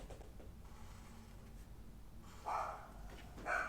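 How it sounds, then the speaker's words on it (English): A small dog indoors lets out two faint, short barks in the distance over a quiet background hiss. "I don't know if you hear her barking."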